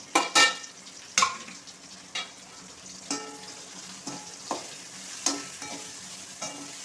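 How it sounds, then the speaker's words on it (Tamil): A brinjal stir-fry being stirred in a pan after grated coconut goes in, with a spatula scraping and clinking in irregular strokes over a soft, steady sizzle, close and fairly quiet. "இப்போ தேங்காய் பூ கொஞ்சம் போட்டுக்கிடுவோம்"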